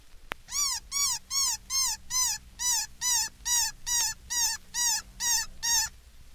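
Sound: baby cottontail rabbit distress call recording

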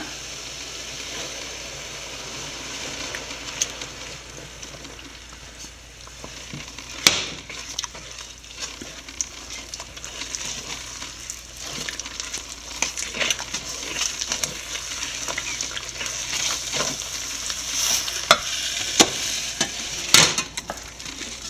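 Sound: rice flour being mixed into boiling water

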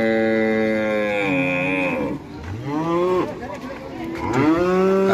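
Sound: injured cow mooing

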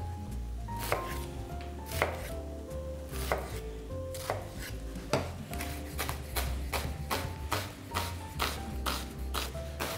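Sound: chopping onion and vegetables finely with a knife

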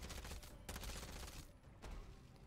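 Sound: ISO 45 SMG gunfire from the video game MW3 Zombies

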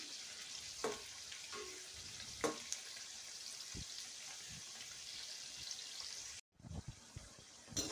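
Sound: jackfruit pakoda frying in hot oil on medium flame

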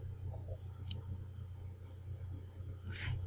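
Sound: computer mouse clicks: right click, then click on Properties

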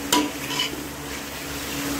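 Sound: stirring gosht karahi (meat curry) in a pan

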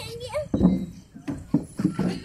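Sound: horse clip-clop

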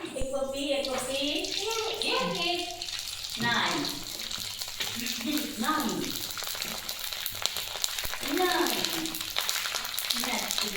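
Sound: potato sabudana chakli frying in oil

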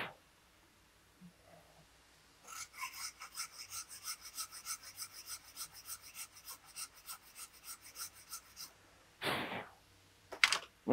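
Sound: saw cutting wood for a two-piece bow

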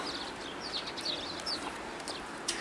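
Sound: Bohemian waxwing, a winter bird in Ukraine

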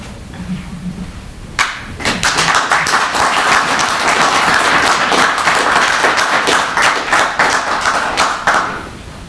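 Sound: audience applause after poetry reading

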